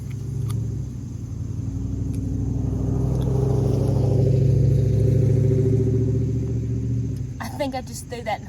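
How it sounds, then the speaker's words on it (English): A lawn mower engine runs steadily with a low rumbling drone, swelling slightly in the middle and holding close and loud before a brief clatter near the end. "Let's go mow."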